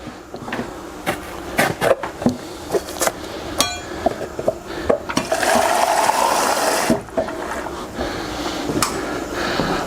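Water from a kitchen tap runs into an empty passata carton as it is filled, with scattered clinks and knocks at first and then a steady, fairly close stream, with no talking.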